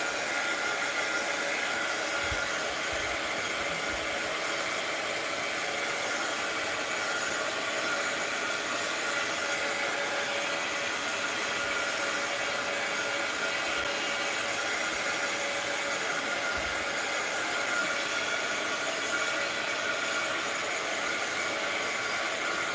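Hair dryer blowing on mixed media art pages, a loud, steady whooshing roar that holds constant for over twenty seconds with no talking.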